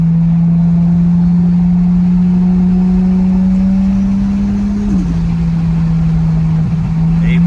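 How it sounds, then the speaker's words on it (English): Single-turbo 1JZ engine in a Toyota Soarer holds a loud, steady drone heard from inside the car with the windows up, the pitch stepping down slightly near the end, with no clear turbo whistle or blow-off burst. "I'm gonna spool it up so maybe you'll be able to hear the blow-off valve"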